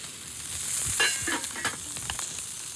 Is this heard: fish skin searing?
yes